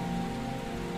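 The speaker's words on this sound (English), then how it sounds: "Now the rain was slacking." Rain falls in a story dramatization as a steady, even patter of moderate loudness that lasts the full second, with no voices.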